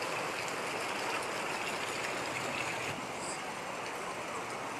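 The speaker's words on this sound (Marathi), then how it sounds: "भरपूर जोरात पाऊस पडतोय." Heavy monsoon rain pours in Alibag while floodwater rushes along the road, making a dense, unbroken roar of water that is loud and close throughout.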